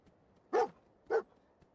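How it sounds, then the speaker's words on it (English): A dog in the Fallout 4 video game gives two short, quiet barks about half a second apart. "What are you barking at?"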